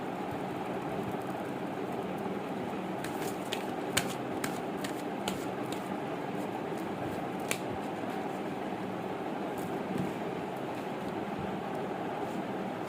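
A deck of cards being shuffled for a card reading, with soft, steady riffling and a few sharp snaps, close and continuous with no talk.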